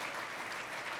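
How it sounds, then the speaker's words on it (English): An audience at a government affairs forum applauds, a brief, quiet, even wash of many hands clapping heard at some distance. "please, a round of applause for people who have served in public service throughout the years"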